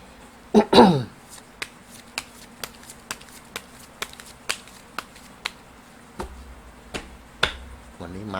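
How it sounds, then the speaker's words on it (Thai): Tarot cards shuffled for a fortune reading, a quick riffle up front followed by a regular series of crisp, close card taps and flicks, about one every half second, with a low hum underneath. "จะมาเสี่ยงไพ่ยิปซีให้เพิ่มเติมนะครับว่า ดวงชะตาคุณในวันนี้ จะเป็นอย่างไรบ้าง"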